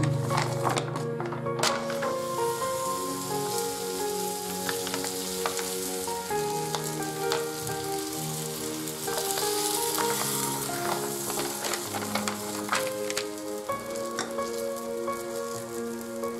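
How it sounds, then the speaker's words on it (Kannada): Puran poli (obbattu, holige) frying on a hot griddle in a home kitchen, a steady close sizzle with scattered taps and scraping as it is turned, no voices over it. "ಹೆಂಚ್ ಕಾದಿದೆ ಒಬ್ಬಟ್ಟು ಹಾಕೊಳ್ಳೋಣ"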